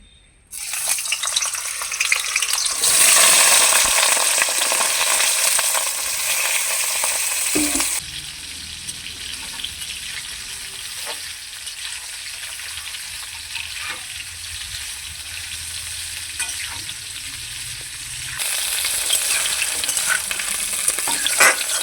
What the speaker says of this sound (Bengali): এখন আলু আর ফুলকপিগুলোকে তেলে দিয়ে ভেজে নেব।